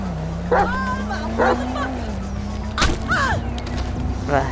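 A dog gives several short yips and barks in separate bursts over a steady low background hum, near and fairly loud, with a whimpering, high-pitched quality.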